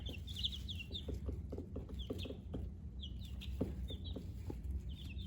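Buff Orpington chicks in a brooder give soft, scattered clucks and high peeping calls, with light tapping pecks on the brooder sides, steady and close with no talking.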